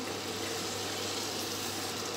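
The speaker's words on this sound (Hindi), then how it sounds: "पानी लगा देंगे, अपनी ज़रूरत के मुताबिक लगाएंगे" Water poured steadily into a pot of chicken and potato curry, a continuous close rushing wash of liquid at even loudness throughout, with no voices.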